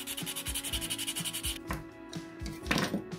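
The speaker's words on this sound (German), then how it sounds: "So schön die Seiten schön schmal feilen." A file works the sides of acrylic gel nails in quick, rhythmic back-and-forth strokes, close and fairly soft, followed by a few slower scrapes and light handling noise, with nobody speaking.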